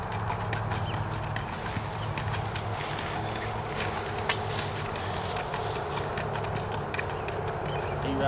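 Horse hooves clip-clop steadily on the ground at an outdoor horse show, a continuous rhythmic patter mixed with wind and general ambience, no talking.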